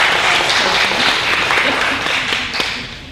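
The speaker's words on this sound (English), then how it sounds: "if y'all want to applaud Texas A&M, you can." Dinner audience at the 2014 Freedom Dinner breaking into steady, loud applause that fills the room, then slowly fades toward the end.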